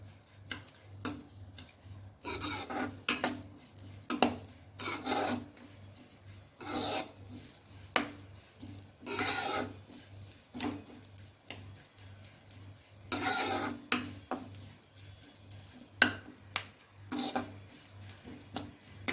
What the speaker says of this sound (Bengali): তিলটা আমি গন্ধ ওঠা পর্যন্ত আমি ফ্রাই করতে থাকবো